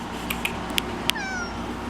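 A house cat gives a short meow near the close mic, preceded by a few faint clicks, against a steady indoor hum with no talking.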